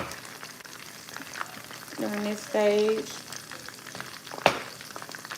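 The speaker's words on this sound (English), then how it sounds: "And the onions frying is gonna give you that nice brown look to your gravy as well." Onions frying in grease in a pan while making gravy give a steady, close sizzle that runs through the whole stretch, under a person talking, with a brief stir or clatter partway through.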